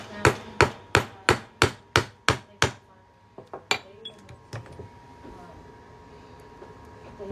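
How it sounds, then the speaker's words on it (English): A run of eight sharp metallic hammer strikes on a center punch through a US state quarter, in quick regular rhythm, then a few lighter, scattered taps fading into quiet handling noise. "Now we're just going to hammer through here."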